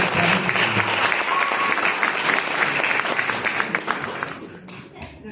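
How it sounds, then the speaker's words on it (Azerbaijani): Loud, dense audience applause filling the room, sustained clapping from a crowd that thins out near the end. "Yəni, ürəkdən alqışlayalım."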